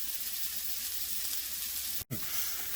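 Keto pork rind biscuits fry in a pan with a steady, close bright sizzle and crackle, briefly cut by an abrupt silent gap before the hiss resumes.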